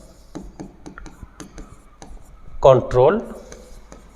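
Short, sharp taps and scratches of writing on a board come at uneven intervals, then a teacher speaks briefly over the writing.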